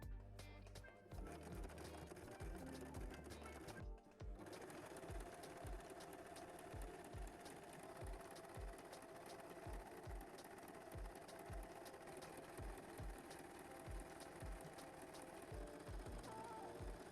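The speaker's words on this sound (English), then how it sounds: "So let's sew that" A sewing machine sews an elastic band onto a swimming costume, its needle thumping in an even, quick rhythm over a steady motor hum, close and alone, after a short start-up.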